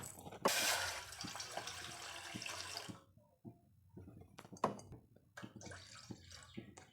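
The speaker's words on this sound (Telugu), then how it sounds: "ముందుగా అయితే స్టవ్ ఇందులో 1 గ్లాస్ ఆఫ్ వాటర్ పోసేద్దాం" A glass of water splashes and trickles into a pot set on a kitchen stove, a short close pour lasting a few seconds, followed by quieter clinks and small handling sounds.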